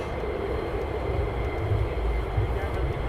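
Military fighter jets taxi at RAF Lakenheath, heard as a steady, distant low engine rumble and roar that holds constant throughout.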